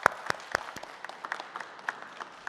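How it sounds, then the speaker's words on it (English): Light, scattered applause from an audience as a panelist comes on stage at a charity campaign kickoff, separate claps standing out over a soft, thin bed of clapping. "Round of applause for Kurt."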